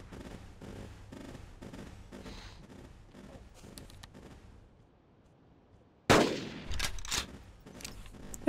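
A gunshot rings out in the hunting game Carnivores Triplex: a sudden loud crack after a quiet stretch of ambient game sounds, followed by a few seconds of rumbling echo and sharp after-sounds.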